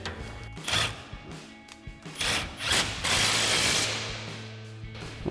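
A ratchet with a 21 mm socket and extension clicks in quick bursts while tightening a leveling kit bolt on a 2020-2026 Chevrolet Silverado 2500, close and loud with short pauses between strokes.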